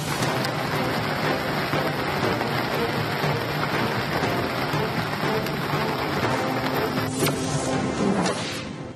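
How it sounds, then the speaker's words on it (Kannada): Heavy monsoon rain pours down in Karnataka, India, in a dense, unbroken hiss, loud and close throughout, with no voices heard. "ಕೊಡಗು ಜಿಲ್ಲೆಯ ಹಲವೆಡೆ ಮಳೆ ಅಬ್ಬರ ಜೋರಾಗಿದೆ"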